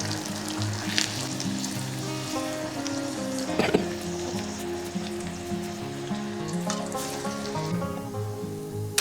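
Plantain flower vadai fritters frying in hot oil: a continuous, close, bubbling sizzle with scattered pops and one sharp clack midway, no talk.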